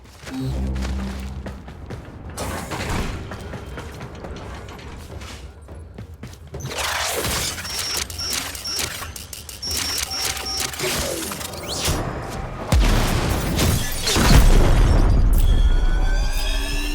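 Booming explosions and mechanical crashes as ship components are destroyed in the video game Warframe, with layered blasts and rumbling impacts building to a heavy, loud low-end burst near the end.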